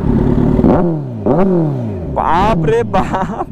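A red 2023 Kawasaki Z900 motorcycle revving hard through its exhaust, several sharp throttle blips rising and falling in pitch, loud and close, with an excited voice exclaiming over it.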